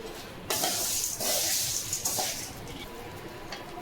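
Idli podi spices with asafoetida and rock salt dry-roasting and being stirred in a pan, a steady close scraping and faint crackle that swells in short bursts, with no voices.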